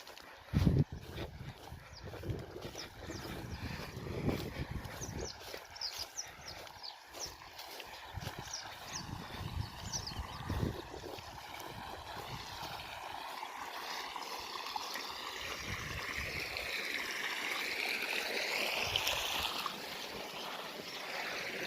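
Irrigation water flowing back into a freshly sown farm field as the channel is switched; a soft, quiet gurgling trickle that grows steadily fuller toward the end, with no voices.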